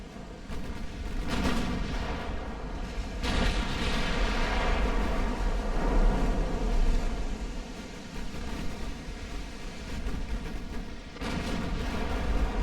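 Naval guns from 1890-era warship hulls firing during a sea battle in Ultimate Admiral: Dreadnoughts: a long, steady roar of repeated heavy booms and rumbling blasts, dense and continuous, with no voices over it.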